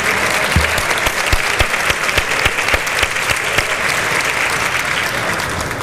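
Loud, sustained applause from an audience at a Mexican Senate event, steady dense clapping with a few sharp nearby claps, no speech.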